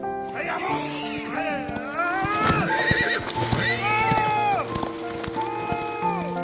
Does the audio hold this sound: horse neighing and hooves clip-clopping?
yes